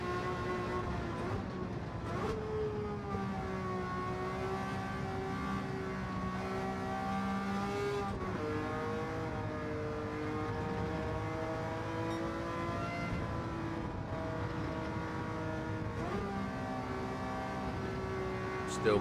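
A Ferrari P4 330 racing car races in Gran Turismo 7, its engine holding a high, sustained howl that climbs and drops with each gear change and corner across the lap, with a voice talking over it.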